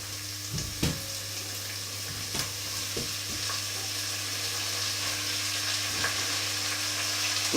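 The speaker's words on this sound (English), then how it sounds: "Once that's warm, I'm just going to add all the vegetables" Vegetables for a traditional bolognese frying in oil in a warm pan, giving a steady close sizzle and hiss with a few sharp utensil knocks and scrapes early on over a low background hum.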